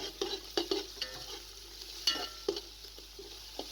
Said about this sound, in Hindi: मटर डालकर तकरीबन 2 से 3 मिनट तक इसको अच्छे तरीके से फ्राई कर लें